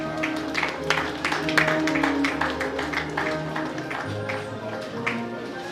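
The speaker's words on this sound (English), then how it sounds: "Please, ladies and gentlemen, with a round of applause, please join me and welcome Mr." Audience at an asthma conference claps steadily for about six seconds to welcome a speaker to the stage. The applause is dense and sustained at an even level.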